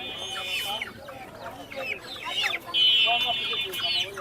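Desi chickens clucking at a busy poultry and pigeon market, with several birds giving overlapping nearby clucks and squawks over a murmur of crowd noise.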